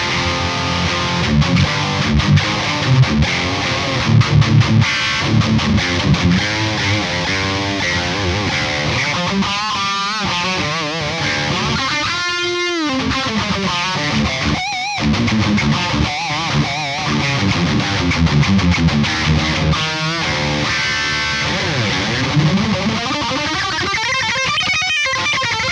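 Distorted electric guitar played through a Fishman Fluence Classic humbucker in the bridge position gives a creamy, chewy overdriven tone, with sustained chords and single-note lines ringing loud and continuous throughout.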